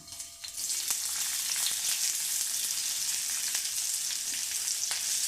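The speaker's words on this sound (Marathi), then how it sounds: "त्याच कढाईमध्ये आता आपल्याला परत थोडंसं तेल घालायचं आहे आणि आपल्याला आता हा कांदा लालसर रंगावर परतवून घ्यायचा आहे" Sliced onion frying in oil in a kadhai for Khandeshi sev bhaji, a loud continuous sizzle up close with faint stirring clicks throughout.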